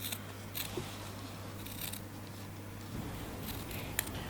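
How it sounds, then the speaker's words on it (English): Small sharp scissors trim the fabric seams of a tote bag, a few quiet, close snips spaced out over a faint steady hum, with no talking. "Using a small sharp pair of scissors, you need to trim around the 3 seams that you've just done."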